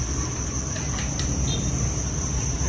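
Crickets on a cricket-breeding farm in Vietnam, a loud, dense, continuous high chirring that fills the scene without pause and with no voices.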